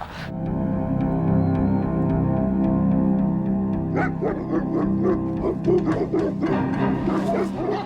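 A dog gives sustained whining, howl-like tones, then shifts to a run of sharp, close barks and yips in an uneven rhythm, with a faint voice in the background.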